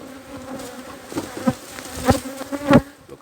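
Honey bees buzz around an opened beehive, a close, steady drone that swells into louder passes as individual bees fly near.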